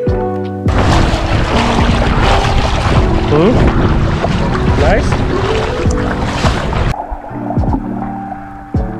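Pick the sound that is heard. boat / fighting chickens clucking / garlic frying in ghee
boat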